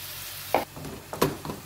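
Garlic and mushrooms frying in a pan, with a steady close sizzle broken by two louder bursts of hissing and scraping as the food is stirred.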